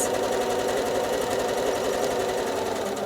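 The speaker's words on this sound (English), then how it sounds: "I'm going to get started by stitching just a wiggly line randomly across my quilting space" A sewing machine runs steadily while free-motion quilting a wiggly line, a fast even mechanical whir and clatter heard close up and alone for about three seconds.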